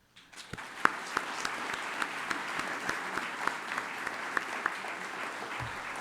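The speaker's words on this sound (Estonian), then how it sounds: "teeme veel kord teile lapsed ühe tugeva aplausi" Audience at a school graduation ceremony gives the children a strong round of applause, steady dense clapping with a few sharp louder claps standing out, lasting the whole stretch.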